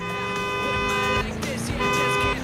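A car horn, in a game featuring a BMW police car, sounds in two sustained honks, the first long and the second after a brief break, loud and close, with a voice talking underneath.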